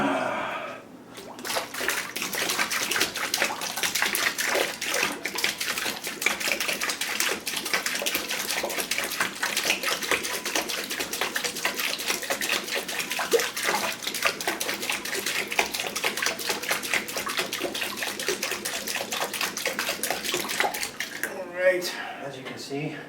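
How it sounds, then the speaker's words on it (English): Cold water pours steadily into a plastic fermenter for a Coopers DIY home-brew beer, a continuous close splashing rush lasting about twenty seconds before cutting off. "I've added enough water to just below the 20-liter mark."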